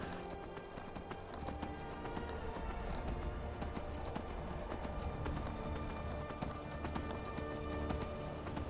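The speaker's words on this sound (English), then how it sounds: "the one benefit of the Skyrim horses is you can kind of pretty much walk over anything" Horse hooves clip-clop steadily over rough, steep terrain in the video game Skyrim, a dense, continuous patter at close range that runs the whole time with no speech over it.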